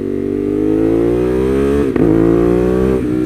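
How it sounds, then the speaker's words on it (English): A Ducati Monster 821 Stealth motorcycle engine droning loud and close, its pitch falling steadily through downshifts, with a brief blip and pop near the end. "Listen to those downshifts."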